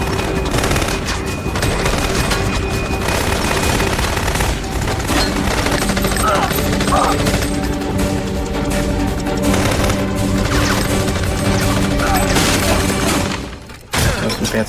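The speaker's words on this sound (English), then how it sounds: "That was some fancy shooting" Shootout from the TV drama E-Ring: loud, continuous automatic gunfire and crackling shots that barely let up for about fourteen seconds, ending in a sudden break.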